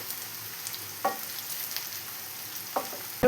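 Onions frying in hot oil until golden brown: a steady, soft sizzle with faint crackling and a couple of light utensil clinks, no talking.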